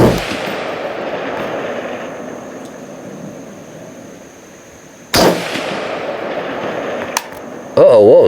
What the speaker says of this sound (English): we're shooting the prime ammunition, top right-hand diamond